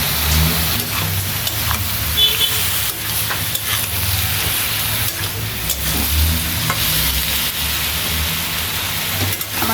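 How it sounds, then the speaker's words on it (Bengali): Cauliflower, potato and eggplant lightly sautéing in a pan for a rohu fish curry give a loud, steady sizzle with repeated stirring scrapes close by, plus low background rumble and no talking. "সবজি কষানো হয়ে গেছে বেশি কষাই নেই অল্প কষাইছি"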